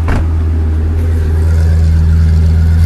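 A Lamborghini Huracán V10 engine holds a loud, deep, steady roar close by, with a brief sharper burst at the start before settling into a sustained throaty drone.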